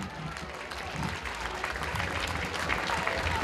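A live concert audience applauds with moderately loud, continuous clapping that swells slightly as it goes. A faint voice can be heard beneath the clapping.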